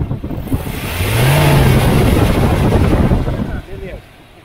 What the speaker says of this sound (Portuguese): eu vou acelerar agora, pessoal